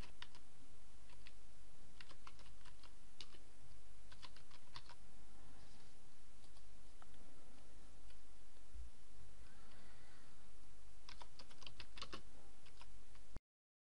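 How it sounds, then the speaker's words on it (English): Fast typing on a computer keyboard for a blog post, with clusters of close key clicks over steady low background noise and no talk. "let's type in a post"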